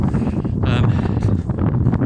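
Steady wind buffeting the microphone, a low continuous rumble with gusty surges throughout.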